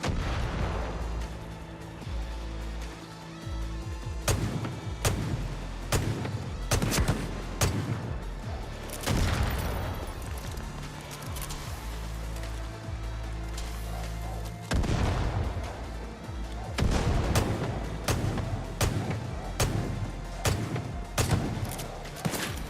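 Heavy, high-caliber revolver shots boom from a Far Cry: New Dawn firefight, a series of loud, reverberating blasts spaced out irregularly over a low rumbling background.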